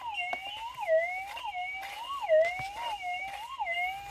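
A metal detector sweeping over ground in a rain forest gives off a continuous warbling electronic tone that rises and falls in regular waves, with faint scraping and knocks underneath.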